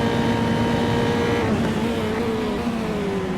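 A Formula 3 car engine at the Jerez circuit in the video game Automobilista, a steady high-pitched drone held at near-constant revs, close and loud, with a slight easing in pitch partway through.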